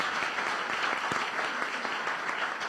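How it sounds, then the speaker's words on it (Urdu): A church congregation applauds for Jesus at a Pakistani church service, a sustained, dense round of clapping from many hands at moderate volume, steady from start to finish. "تو ہم یسوع کے لیے زوردار تالیاں بجائیں"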